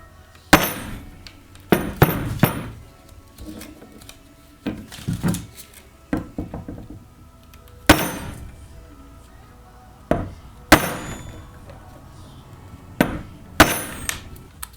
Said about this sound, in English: I'm taking a sledgehammer that I have right here and giving just a little pop and then a check.